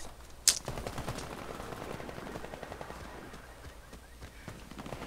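Gunfire in the video game Warface from an MSBS Radon rifle, a sharp first shot and then rapid automatic bursts that sound close, keep a steady rhythm and ease off slightly toward the end.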